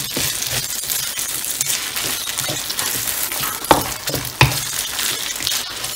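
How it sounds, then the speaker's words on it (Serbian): Rice and eggs stir-fried together in a pan produce a continuous hiss of frying under repeated scraping and clinking from the utensil, with two sharper metallic knocks near the end. "Samo mešamo da se ono lijepo prži"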